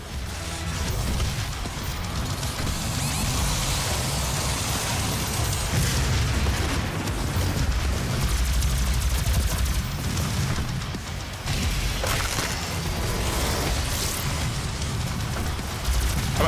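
Rocket explosions in Doom 2016, a dense, continuous barrage of heavy booms and bursts layered with gunfire and game noise, loud and sustained throughout with a few sharper blasts standing out.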